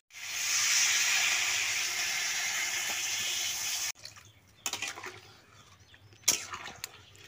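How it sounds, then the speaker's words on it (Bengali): Water poured into fish curry masala in a pan, a steady loud hissing splash lasting about three seconds, then quieter bubbling and a few clinks, close with no talking. "এবার পরিমাণ মতো জল দিয়ে দিচ্ছি।"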